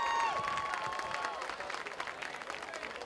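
Crowd applause at a high school football game, Goffstown at Nashua North, as a player jogs off the field. Moderate, steady clapping at a distance, with faint voices mixed in.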